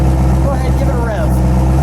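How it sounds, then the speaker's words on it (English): A red 1968 Mustang Shelby GT500KR convertible with a 428 Cobra Jet V8 runs loud and close, a deep rumbling engine with a short rising rev swell in the middle before settling back to a heavy idle. "Go ahead, give it a rev."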